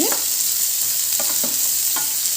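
Thinly sliced onions frying in a pan, a constant hissing sizzle with a few soft stirring scrapes spaced apart, close up and without any voices.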